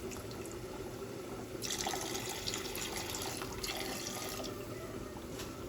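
Water pours into a pot of Telangana-style fish curry, a gushing splash that starts partway through, runs for about two seconds, then continues a little more softly against a quiet kitchen background.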